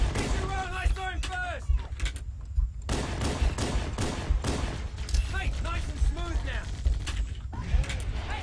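Repeated Halo: Combat Evolved gunfire on Heroic difficulty crackles throughout, mixed with creaking mechanical game effects and a busy firefight, while a player talks over it.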